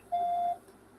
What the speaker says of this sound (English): Leave your complaint by voicemail after the tone.